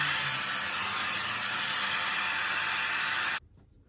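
A hair dryer running on its high speed setting gives a loud, steady broadband rush of air that holds evenly for over three seconds, then cuts off abruptly into near silence.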